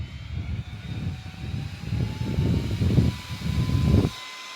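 A small handheld electric fan on its highest setting roars with a rushing, jet-like whoosh and a thin whine, running loud and close before cutting off abruptly.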